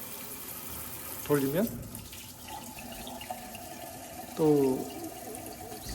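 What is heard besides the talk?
water running from a waterfall kitchen faucet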